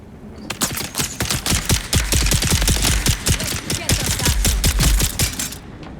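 A pistol fired in the video game Dune Awakening: a loud, close, fast string of sharp shots running almost without a break for several seconds.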